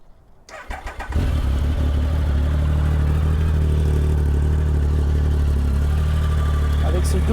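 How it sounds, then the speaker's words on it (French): A 2013 Triumph Speed Triple 1050 R with twin exhausts cranks over briefly, fires and settles into a loud, steady, close idle that runs alone to the end. "Je vais démarrer la moto et vous faire un petit peu écouter la sonorité de l'engin."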